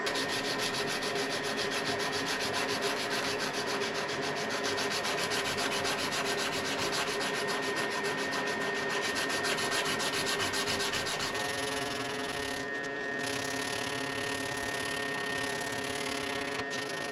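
A knife handle is sanded by hand with a thin abrasive strip, giving a steady, close, continuous scratchy rubbing with a brief lull and change in texture near the end.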